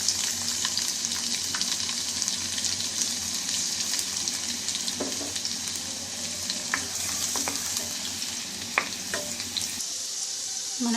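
Chopped garlic fries in hot oil for a homemade pizza sauce, a steady close sizzle with a few stirring clinks and scrapes, and no talking.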